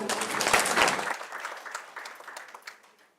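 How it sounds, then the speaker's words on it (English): Audience clapping at a national climate dialogue event, a burst of applause that starts loud and thins out into scattered claps before fading. "Please clap for Najinda."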